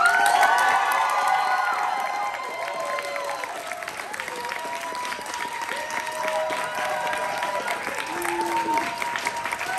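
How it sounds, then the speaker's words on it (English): Loud crowd at a Bernie Sanders event at Millersville University in Lancaster applauds and cheers steadily for the whole stretch, a dense roar of clapping and shouts with whistles and a few voices rising above it. "it's a loud crowd"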